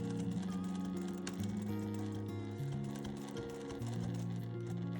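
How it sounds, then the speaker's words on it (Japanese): Sewing machine stitching layered rubber cloth fabric for a sacoche, a rapid, even mechanical chatter heard under light background music. "仕切りの生地を重ねて縫っていきます"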